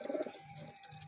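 Pigeons in a home loft squabble over freshly scattered morning feed, giving steady low, throaty coos close by with no talking.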